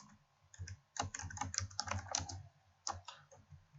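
Computer keyboard typed on while writing an Arduino program, with quick clustered bursts of keystrokes separated by short pauses, close and clear, with no talking.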